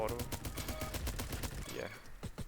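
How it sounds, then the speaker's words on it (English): Rapid full-auto bursts from a Tec-9 pistol in the Roblox shooter Bad Business, dense and evenly spaced shots that fill the clip, with a short pause and a few trailing shots near the end. "Tech 9, it's really good, really powerful, and you can make it auto."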